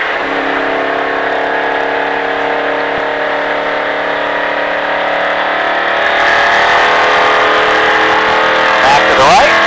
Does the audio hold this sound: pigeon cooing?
no